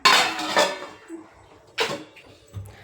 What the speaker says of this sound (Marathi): त्याच्यावर झाकण ठेवायचं